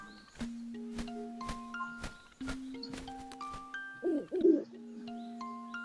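An owl in the video game Link's Awakening gives a few soft hooting calls over steady chiptune music with sustained tones, fairly quiet and with no talk.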